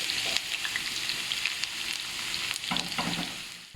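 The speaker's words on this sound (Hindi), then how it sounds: "और जब ऑयल गर्म हो जाए तो इसमें शामिल करेंगे प्याज।" Onion sizzles loudly in hot cooking oil in a pan for a brain fry masala, a dense continuous crackle and hiss with brief stirring scrapes partway through, with no talking.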